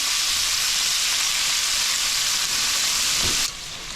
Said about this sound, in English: I'm cooking the vegetables here, and I added about a tablespoon of garlic in here